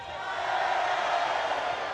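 A large crowd cheers at Manchester City's treble-winning trophy parade. The sound is a broad, distant roar that stays steady and carries faint shouts within it.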